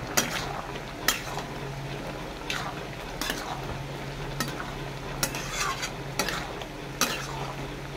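Prawns sizzle in a pan of okra curry while a spoon stirs them, steady frying hiss broken by several sharp metallic scrapes against the pan, close and fairly quiet.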